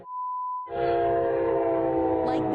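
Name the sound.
Amtrak train passing a crossing with horn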